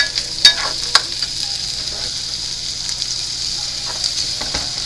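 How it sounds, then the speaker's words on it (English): Potatoes being stirred in a pan of melted butter or margarine, a steady frying sizzle with a few sharp utensil scrapes and clicks near the start, close and moderately loud, no talking. "So what I'm doing now is trying to stir it so that all the potatoes have a little bit of butter"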